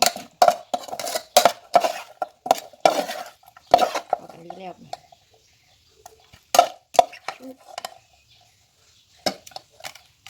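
Metal utensils clink and scrape against a pan or bowl while cooked pork larb is stirred and mixed, in bursts of sharp clatter separated by short quiet gaps.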